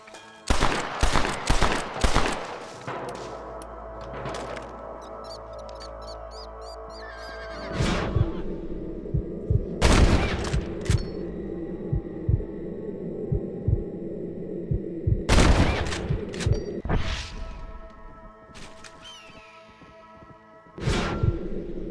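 Gunshots in a Red Dead Redemption shooting contest, sharp cracks in quick clusters and spaced single shots over a steady low hum, with no talking.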